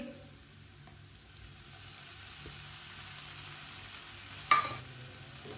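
Chopped green chillies and finely chopped tomato hit a hot pan with fried peas, giving a steady soft sizzle and a brief louder burst as the pieces go in, with no talking.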